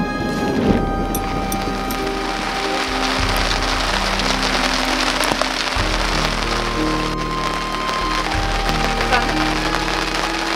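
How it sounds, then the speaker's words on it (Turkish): Heavy rain drumming on a camping tent during a storm, a steady dense patter close overhead with a low rumble of wind beneath, continuous for the whole stretch. "Yani yağmur yağıyor biliyorum ama"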